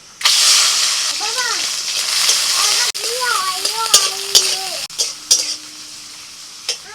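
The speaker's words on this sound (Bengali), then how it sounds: "কড়াইতে অল্প তেল দিয়ে ওর মধ্যে দিয়ে দিচ্ছি কয়েক কোয়া রসুন" Shrimp frying in a little oil with garlic cloves and two dried chilies in a kadai, with a continuous close sizzle and a few sharp clinks of a utensil while someone talks.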